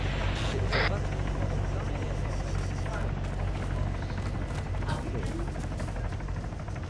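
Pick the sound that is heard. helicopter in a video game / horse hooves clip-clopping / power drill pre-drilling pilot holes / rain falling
helicopter in a video game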